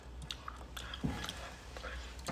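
Rice noodles being eaten with spicy Isan papaya-style salad, soft close chewing and crunchy bites in quiet, intermittent mouthfuls.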